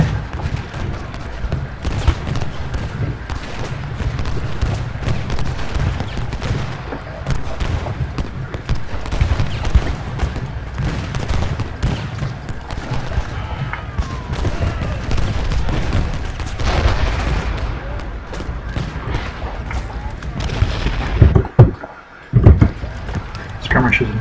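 Musket volleys in a Civil War strategy game form a dense, continuous crackle of gunfire and low thuds, rolling on steadily under a speaking voice with a few louder bursts near the end.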